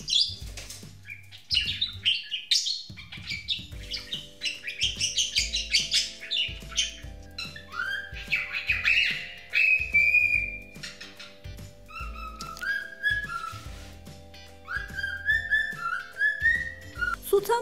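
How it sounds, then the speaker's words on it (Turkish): Budgerigars and cockatiels sing together at close range, a dense, continuous mix of chirps, warbles and bright rising whistles, with soft flapping and small clicks underneath and no talking. "Hem muhabbet kuşları hem de sultan papağanları sabah erken saatlerde ve gün batımında öterler."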